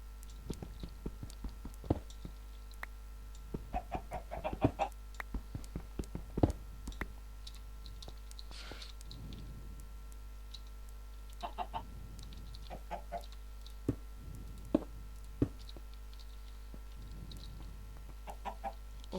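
Minecraft chickens clucking in a game world, short scattered clucks and pecking sounds recurring over a steady low background hum, fairly faint.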